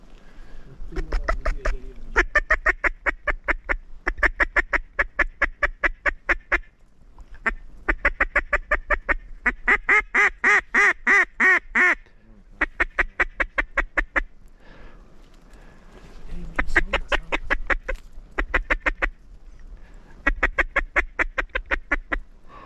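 A duck call is blown in rapid strings of loud, close quacks, several bursts separated by short pauses, with a faint low rumble of movement between them.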